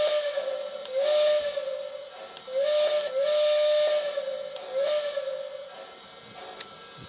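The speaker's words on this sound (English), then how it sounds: "let's go ahead and start off with a whistle" Steam whistle from a Lionel LionChief Pennsylvania Flyer toy train set, sounding three long, steady toots in a row, loud and close, over a soft hiss.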